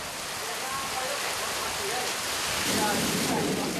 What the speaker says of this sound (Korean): 갑자기 굵어지는 빗줄기. 그러더니 폭우가 쏟아집니다.